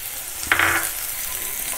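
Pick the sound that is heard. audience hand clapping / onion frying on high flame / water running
onion frying on high flame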